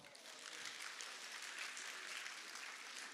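A church congregation claps in a steady, even round during a sermon, a continuous patter of many hands heard at moderate distance.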